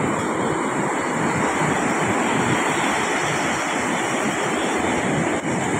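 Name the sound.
ocean waves after a storm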